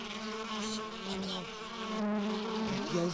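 A bee buzzes steadily in a garden, a close, continuous droning hum that shifts pitch slightly as it moves, loud and clear without talk.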